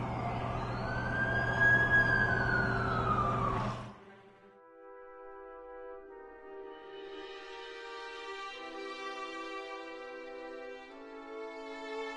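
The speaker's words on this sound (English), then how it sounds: "That's the ambulance I called." Ambulance siren in The Amazing Spider-Man video game, a loud wailing sweep that cuts off abruptly, followed by a quieter sustained tonal hum continuing to the end.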